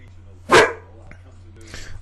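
A dog gives a single sharp, loud bark nearby, then follows with a fainter second yelp in an otherwise quiet room with a low steady hum.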